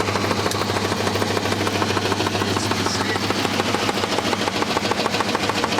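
A vintage washing machine motor runs close up, a loud, steady drone with a fast, regular mechanical chop that holds throughout without talking.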